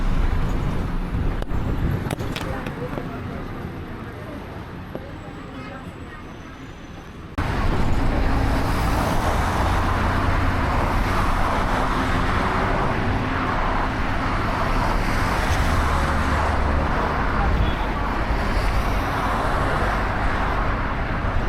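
Riding a public bus in Hungary: a continuous rumbling engine and road noise inside the vehicle, getting louder and rougher partway through as it speeds up, with no talking.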